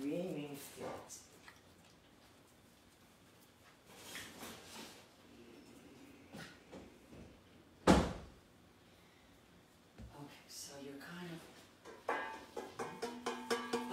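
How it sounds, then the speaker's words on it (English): A door is shut indoors, giving one sharp, loud thunk in the middle, surrounded by quieter handling noises and a person talking. "let me go shut this door before Hanny starts, having a screaming fit."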